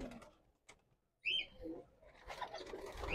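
Soft pigeon coos and fluttering bird sounds come up close, mixed with rustling and faint background noise.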